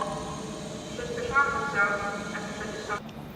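A train pulls into a platform at Katowice station with a steady, moderately near rumble and faint squealing tones rising through it, while people talk nearby over the noise.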